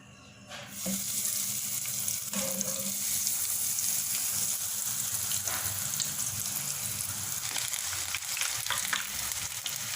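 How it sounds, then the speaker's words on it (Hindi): Onion rings deep-frying in medium-hot oil in a kadai set over a medium flame, giving a loud, dense, continuous bubbling sizzle that starts abruptly and stays steady up close. "दरमियानी आंच के ऊपर कढ़ाई रख ली है ऑनियन रिंग्स को फ्राई करने के लिए"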